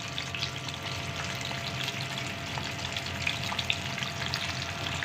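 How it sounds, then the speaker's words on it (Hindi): Chicken broast deep frying in oil over a medium flame, a continuous dense bubbling sizzle with small crackles throughout, close and steady, with no talking. "ये दरमियानी आंच में हम इसे पका रहे हैं ताकि अंदर तक अच्छे से फ्राई हो जाए"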